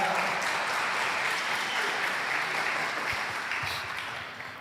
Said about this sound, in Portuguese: Vamos aplaudir o Senhor pela vida dela.